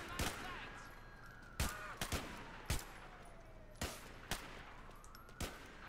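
Gunfire in GTA IV, a police patrol shootout, with sharp shots cracking out in irregular bursts, several in quick succession, over faint background game sound.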